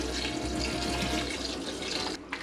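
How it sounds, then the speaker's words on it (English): A quart of water pours steadily from a tap-like stream into a cooking pot holding vegetable oil for a meat hot sauce, a close continuous splashing rush that cuts off near the end. "And a quart of water."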